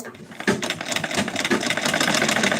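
Sewing machine stitching a blouse at home, a steady rapid mechanical whir with fast repetitive needle clatter running continuously and fairly close.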